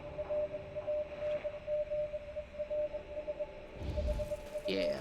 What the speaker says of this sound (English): You can still hear the Morse code, which is really weird.